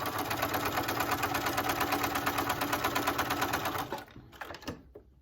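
A Bernina sewing machine fitted with a walking foot stitches at a steady, fast rhythm, loud and close, then slows and stops near the end.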